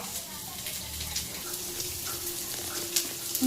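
Onions with turmeric fry in a pan with a soft, steady sizzle and faint stirring scrapes, fairly quiet throughout.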